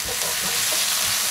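Garlic frying with onion in a pan for a Tuscan beef stew, giving a steady, close broadband sizzle with faint stirring scrapes throughout, no voices.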